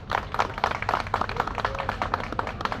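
A crowd applauds at a gig workers' rally at Jantar Mantar in Delhi, with steady, dense clapping throughout and no pause.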